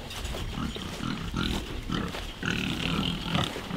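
Free-range pigs on a mountain-top homestead farm grunt and snort in repeated short bursts, close and continuous over several seconds, with no talking.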